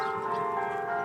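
Church bells ringing steadily and sustained, with overlapping tones holding throughout at moderate loudness and no talk over them.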